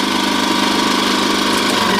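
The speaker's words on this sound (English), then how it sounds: "this generator is a little bit louder than Honda" A Champion 2000-watt inverter generator runs at full speed with a steady, loud mechanical drone and engine hum that continues unbroken from start to finish.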